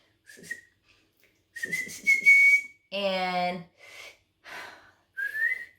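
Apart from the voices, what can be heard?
human whistling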